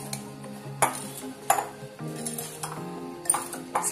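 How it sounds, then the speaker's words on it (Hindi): A spoon stirs mustard seeds and spices together in a bowl for mixed vegetable pickle, giving repeated light clinks and scrapes at an uneven rhythm, close and moderately loud, with no talking. "अब इसे मिक्स करते हैं।"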